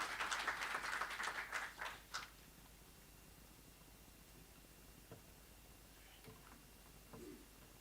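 An audience at an Annual General Meeting gives a short burst of applause to welcome a speaker, faint and fairly distant, fading out after about two seconds into near silence with a few small knocks.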